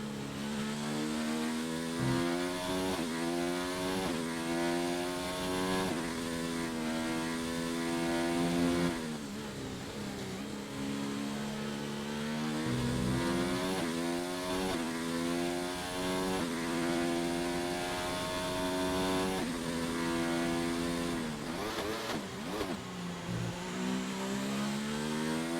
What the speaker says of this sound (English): I'll keep quiet again for the rest of the lap just so you can hear some nice engine noises.